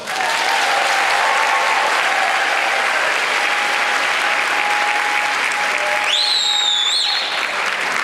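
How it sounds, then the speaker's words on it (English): A large crowd at a faith-based action assembly breaks into sustained applause, a dense, loud wash of clapping with a faint whistle near the end. "So yes, applause."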